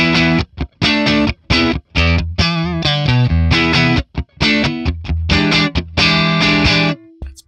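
A Stratocaster plays choppy distorted chords and riffs through a Friedman Plex DI tone model with no reverb, loud and dry, with sharp stops and short gaps between phrases.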